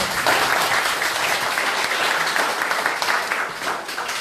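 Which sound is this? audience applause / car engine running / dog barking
audience applause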